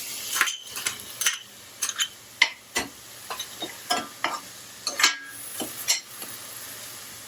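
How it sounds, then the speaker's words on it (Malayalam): Chopped capsicum is stirred in a frying pan for shakshuka, giving a soft steady sizzle broken by frequent light taps and scrapes of the utensil against the pan, close and fairly quiet. "ഇതിലേക്ക് ക്യാപ്സിക്കം ഇട്ട് കൊടുക്കാം."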